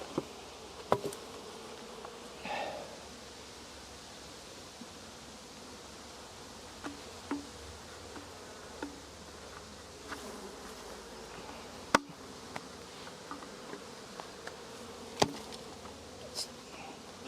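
Honeybees buzzing steadily around a hive split outdoors, a continuous drone with individual bees passing close now and then, plus scattered clicks and knocks, no speech.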